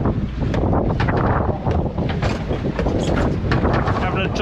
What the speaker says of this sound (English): We got a northwesterly wind, and it's blowing us around a little bit.